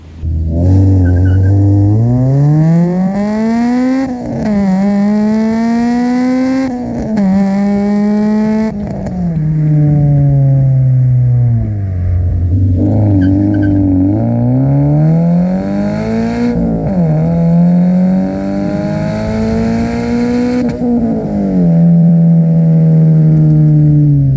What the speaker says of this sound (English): Driving the Integra Type S.